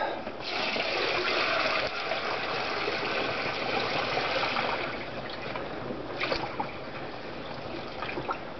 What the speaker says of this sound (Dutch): En dan gaan we er nog even wat heet water bij doen.